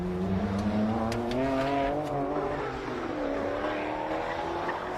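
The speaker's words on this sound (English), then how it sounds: "Cars stream through." Rally cars on the Adelaide Rally Tour, including a Mazda MX-5 heading into a hairpin, roar past at moderate distance, engines revving and rising and falling in pitch as they stream through one after another.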